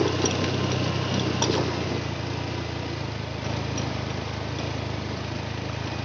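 A Honda motorcycle engine runs steadily while riding along a road, a continuous low droning hum with wind-like roar, moderately quiet and unchanging throughout, with no talking.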